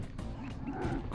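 A spinning door in the Sly Cooper video game creaks with a continuous, wavering mechanical groan that rises and falls throughout, moderately loud with no talk over it.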